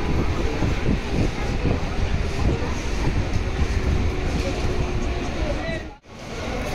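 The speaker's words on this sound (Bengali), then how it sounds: "তাই দুর্গানগর স্টেশন থেকে আমাদের ট্রেন এগিয়ে চলল তার পরবর্তী স্টেশন ক্যান্টনমেন্টের উদ্দেশ্যে" A suburban train pulls away from Durganagar station, and its loud, steady rumble carries a rhythmic clatter of wheels over rail joints. The roar dips sharply for a moment near the end before returning.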